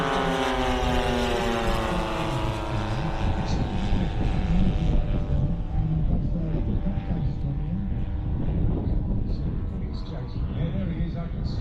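A model aircraft drones overhead at an air show, its engine a loud sustained buzz that slowly shifts pitch as it passes, with people talking throughout.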